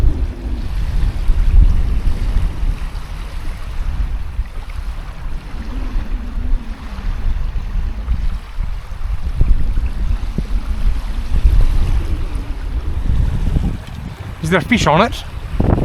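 Strong wind blows across a lake during a fishing trip, a steady close roar of gusts buffeting the microphone, while a person speaks briefly over it.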